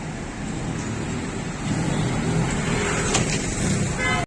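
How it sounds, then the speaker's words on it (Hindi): Road traffic rushing past near a flyover construction site, with one side of the road closed; a steady, fairly loud wash of vehicle noise with a brief sharp rise near the end, no talk. "ट्रैफिक अपडेट ये है कि रश लगा हुआ है"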